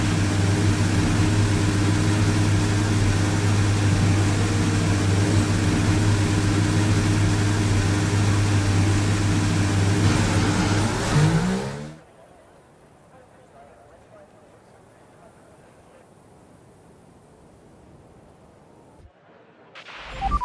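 A Formula 1 race car engine in a video game idles with a loud, steady droning hum that cuts off abruptly partway through, leaving near silence.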